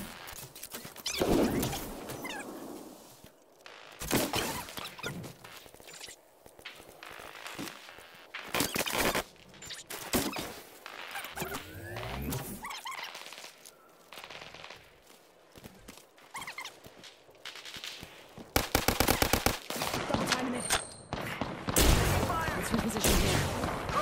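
Gunfire in the video game Apex Legends, bursts of shots and impacts scattered through a busy match mix with other game effects, while a voice talks intermittently over the action.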